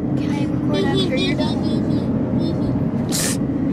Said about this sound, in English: we are in the middle of driving